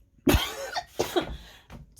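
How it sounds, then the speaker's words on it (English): Three harsh coughs close to the microphone, the first loudest, with brief pauses between them. "I managed to pause before I had my second coughing fit into the microphone."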